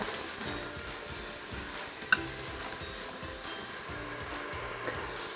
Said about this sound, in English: we just want to get these sauteed until they're softened